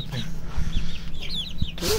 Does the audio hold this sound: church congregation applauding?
no